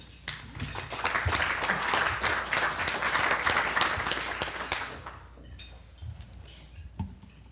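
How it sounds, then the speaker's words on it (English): Applause from a gathering fills the room, dense clapping swelling for about five seconds before thinning into a few scattered claps that fade out. "Please give her a round of applause"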